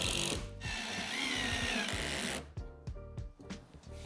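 Screws are driven to fasten a carbon build sheet onto the platform of an AON3D M2+ high-temperature 3D printer, a loud continuous whirring grind for about two seconds, then scattered clicks and handling knocks.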